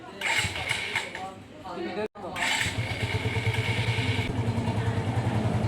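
A motorcycle being kick- or button-started: loud engine and mechanical rattle run almost continuously, with a brief cut near the middle before it catches again, while people talk over it.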